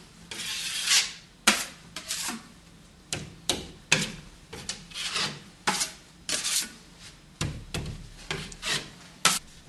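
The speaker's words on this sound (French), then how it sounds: "je vais étaler mon enduit à joint sur la partie où je dois mettre donc ma bande" Joint compound being spread with a trowel along a plasterboard corner, a series of close, repeated scraping and rubbing strokes with brief pauses between them, with no talking.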